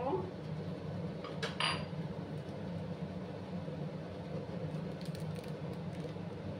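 A spoon stirs semolina halwa with milk in a pan, making faint scraping with a couple of clinks under a low background hum.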